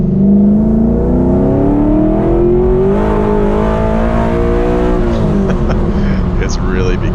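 Cammed Ford BA GT engine pulling hard under acceleration, a loud rising rev that climbs, drops at a shift and climbs again, with road and wind noise from inside the car.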